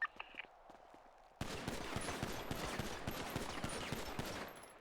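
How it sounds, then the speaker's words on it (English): Pistol shots at a shooting range in the video game GTA V roleplay begin after a quiet moment, then fire in a steady, fairly even stream of sharp reports that continue to the end. "Aim, deep breath, fire when ready."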